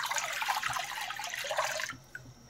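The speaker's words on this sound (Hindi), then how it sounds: "पानी डाल देंगे," Water poured from a bowl into a kadhai on a gas stove for cooking macaroni, a close splashing gush that cuts off near the end, followed by a faint drip.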